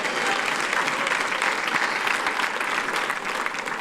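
A church congregation claps together during a sermon, a loud, continuous, dense round of hand clapping filling the room without pause.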